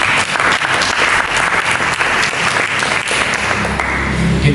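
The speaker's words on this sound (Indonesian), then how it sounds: "Mari kita tepukan." A church congregation claps steadily and loudly for several seconds, a dense, continuous patter of many hands with no voices standing out.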